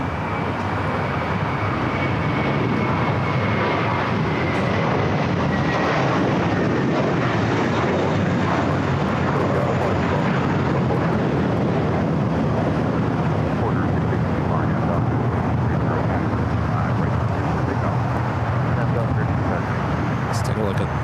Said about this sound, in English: We'll have a takeoff on 25 right coming up.